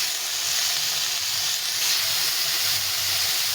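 Turmeric powder and spices fry in a hot pan for a pumpkin-greens dish, giving a loud, continuous hiss and sizzle that stays steady close to the microphone, with no voices.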